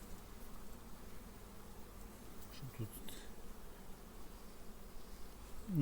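Steady insect buzzing fills the whole stretch, a dense hum of many honey bees close by around a hive, with slight swells in loudness.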